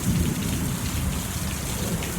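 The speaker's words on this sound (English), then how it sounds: "Listen to the thunder." Steady rain pours down outdoors beside a house with missing gutters, and a deep thunder rumble rolls underneath it, loud and continuous for the whole stretch.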